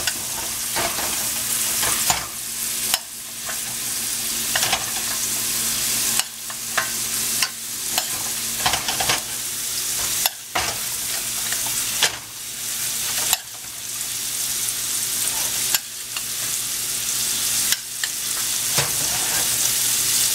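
Beef tenderloin sizzles loudly in butter in a not-quite-hot-enough skillet, a steady close-up hiss broken by several brief pauses and dips.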